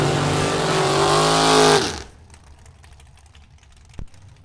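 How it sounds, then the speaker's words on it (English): Rear-engine dragsters drag racing, heard as a loud roaring engine rising in pitch for about two seconds and then cutting off sharply, leaving quieter background noise and a brief thump, with no talk. "Pair of rear-engine dragsters now."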